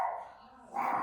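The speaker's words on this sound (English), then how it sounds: "Little Coco going barking there." Small guard dog barking outdoors in the snow, two sharp yips at the start and end of the moment, fairly close and clear.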